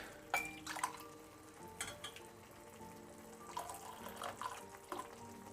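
Fermented chickpea water poured into a pot while cooking an old Greek-style chickpea meze, a continuous splashing, trickling stream with a few louder splashes, close and with no talking.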